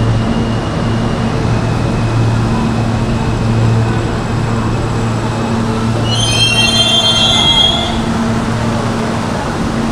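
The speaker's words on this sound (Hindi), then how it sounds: "एनीवे मेरी ट्रेन आ गई, पहले मैं इसमें घुसूँ।" A New York subway train pulls into a station with a heavy, continuous rumble, and a high metallic wheel squeal rises near the end as it slows.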